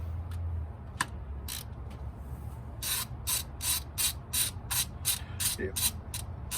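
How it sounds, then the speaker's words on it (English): Ratchet wrench snugging up the carburetor base plate nuts on a 1969 Camaro, a run of quick close clicking bursts in steady rhythm with brief pauses between strokes. "he is just snugging up the nuts to the base plate"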